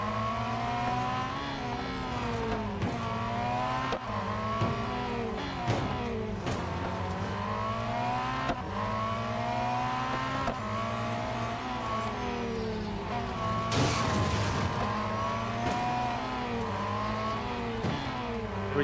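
Race car engines in Real Racing 3 rev continuously over a track, layered high-pitched whines rising and falling with gear changes, several cars close together, one brief sharp burst near the middle, no voices.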